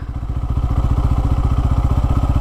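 A Bajaj Pulsar N250 motorcycle engine lugging along at very low speed, a loud, close, rapid and even thudding pulse that stays steady throughout.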